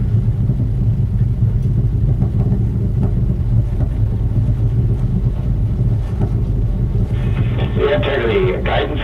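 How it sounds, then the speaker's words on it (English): The Artemis II rocket's main engines rumble during launch, a deep, broad, steady roar with crackling texture, joined near the end by a brighter hissing burst, with faint voices under the noise. "Main engines throttling up"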